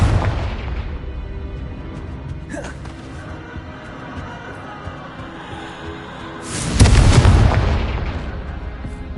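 A Confringo blasting curse explodes in the video game Hogwarts Legacy: a sudden, loud, booming blast with a rumbling tail, after several seconds of quieter game ambience and a brief whoosh.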